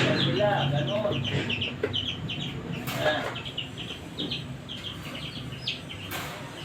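Small chicks kept in a low-cost brooder peep in repeated high, thin calls over a close, busy background of clucking and rustling, with a voice speaking now and then.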